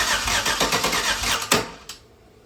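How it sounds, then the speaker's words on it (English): Chevy Nova's LS 5.3 V8 in a garage cranks with a rapid, loud rhythmic churn for about a second and a half, then fires with a sharp burst, catches briefly with a second pop, and quickly fades. "So I might just crank it and then just hope it fires."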